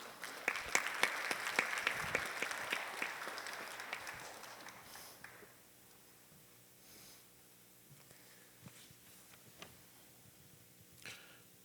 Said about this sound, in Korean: 우리 오실 때 또 큰 축복의 박수 하도록 하겠습니다